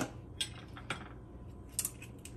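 A kitchen knife cuts through an avocado and scoops out the flesh, giving a few faint, close scraping and tapping sounds with short pauses between them in a quiet room.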